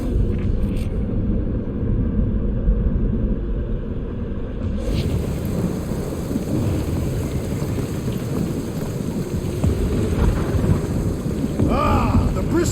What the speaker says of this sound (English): That is some really crazy lightning out there.